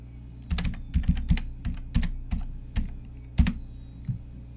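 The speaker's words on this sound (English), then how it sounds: "to unlock it, you're going to need to enter in your password." Password being typed on a computer keyboard: a quick run of distinct key clicks in short uneven bursts, close and clear, with no voices.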